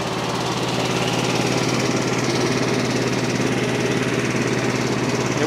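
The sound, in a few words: 14 horsepower engine running on Frontier OS23 sawmill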